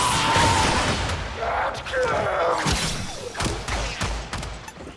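Gunfire strikes the player in Warframe, a burst of close thuds and booming shots over game effects, with someone talking through parts of it.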